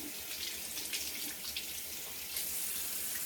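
Hair gloss is rinsed off fingers under a running tap, a steady close rush of water splashing into a sink with slight shifts as the hands move through the stream.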